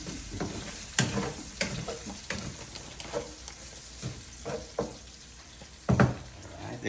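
Hot oil popping and spattering in a pan before pancit bihon noodles, sharp irregular crackles and bursts over a low sizzle, close and uneven, ending with a louder spurt.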